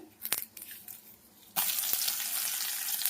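A few clicks and light taps, then a sudden loud burst of sizzling as dried red chillies hit hot oil for tempering, hissing steadily afterward.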